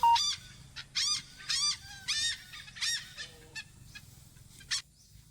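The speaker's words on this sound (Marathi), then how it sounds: "मला हॉर्नबिल पक्ष्याचा आवाज आला" A hornbill calls in the evening outdoors, giving a series of loud, nasal honking notes in an uneven rhythm, several close together and then a last isolated call, with no talk.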